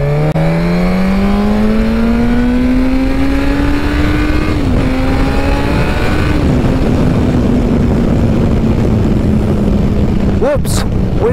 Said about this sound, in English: So the sound of the bike is pretty epic then.